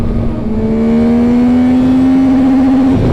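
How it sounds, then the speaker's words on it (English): A 2024 Yamaha Tracer 9 GT motorcycle engine revs up steadily to its rev limit, the loud, close whine climbing in pitch for about three seconds before cutting back sharply at the limiter. "When it hits the rev limit, it changes colors."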